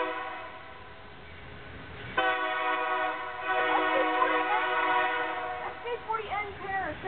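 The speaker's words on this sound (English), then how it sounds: "On 1761, it sounds like the horn just got raised." A Union Pacific freight train led by a pair of SD40N locomotives sounds its horn, a loud multi-tone chord that starts abruptly and holds for several seconds with wavering pitch, while a voice speaks beneath it toward the end.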